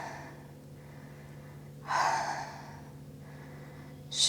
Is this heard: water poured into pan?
no